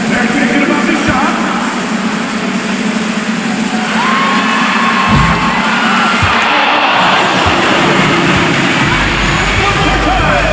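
Dense basketball arena crowd applause and cheering, loud and steady throughout, with a voice faintly audible underneath.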